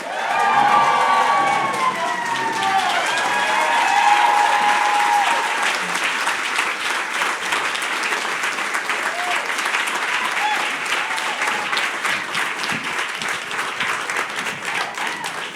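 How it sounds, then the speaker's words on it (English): A live audience at a New York Fashion Week talk event applauds and cheers loudly for a guest's entrance, with whoops and shouts over sustained dense clapping that gradually settles. "I'm going to need y'all to get on your feet. I'm going to need you to hoop and holler."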